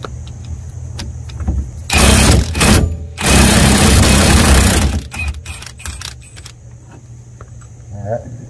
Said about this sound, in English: We're gonna put it on this big Milwaukee gun